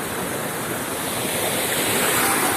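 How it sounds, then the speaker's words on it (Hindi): Heavy floodwater rushing through streets during torrential rain in Jaipur, a loud, continuous roaring wash of turbulent water with no pauses, close and steady throughout. "ये देखिए लगातार पानी का बहाव, कटाव"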